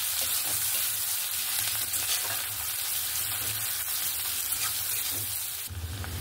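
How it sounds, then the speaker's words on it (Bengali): Chopped onions sizzle steadily in hot oil alongside fish for a Bengali Mandeli fish dish, with a dense continuous frying hiss and occasional stirring, loud and close with no talk. "পেঁয়াজ কুচিটা দিয়ে ভালো করে মিক্স করে নেব। আর পেঁয়াজটাকে একদম ভেজে নেব সুন্দর করে।"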